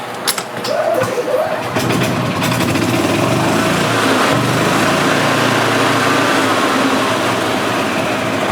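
Gas engine of a 2010 EZGO RXV golf cart running steadily after its carburetor was cleaned, a loud, even drone close by with a brief louder rev at the start.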